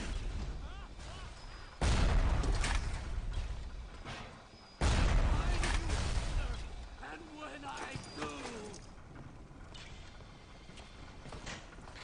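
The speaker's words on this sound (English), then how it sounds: "Is that an automated gun shooting at?" An automated gun turret firing in the BioShock video game: two loud, sudden bursts of gunfire, each trailing off over a couple of seconds, with a voice talking in the background.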